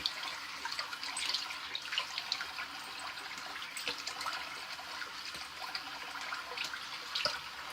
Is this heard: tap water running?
yes